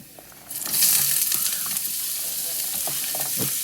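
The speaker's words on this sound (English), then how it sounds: "Do a half cup of celery, carrots, onion, and fresh rosemary. All go in the pot." Half a cup of celery, carrots, onion and fresh rosemary drop into a hot pot for pasta e fagioli, and a loud sizzle bursts up and then holds steady with light stirring clinks.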